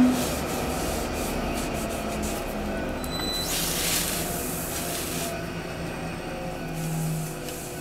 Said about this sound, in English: I sand, up to 400 or 600 grit